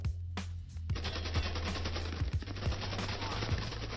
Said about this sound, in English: Oh, I got shot.